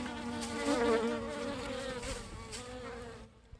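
Honeybees from a late-summer August swarm buzz steadily on a hive frame holding leftover pollen patty and swarm-trap wax, a close, continuous hum that stops abruptly near the end.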